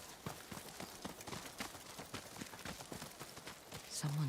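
Horse hooves clop in a quick, steady rhythm in Ghost of Yotei, fairly faint and mid-distance, with a brief tonal game sound near the end.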